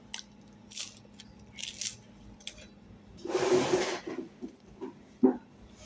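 Close, crunchy chewing of oven-toasted food, with soft scattered bites building to a loud dense crunch near the middle and a final sharp bite.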